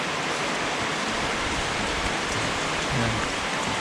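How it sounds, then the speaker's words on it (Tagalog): Steady, dense rain in Bicol, Philippines, hisses continuously, a broad wash of falling water with no voices or breaks. "yung ulan na to simula pa to kahapon"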